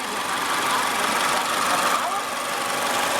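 A Mazda Biante's healthy engine idles steadily, a smooth continuous mechanical hum heard close up with someone talking over it.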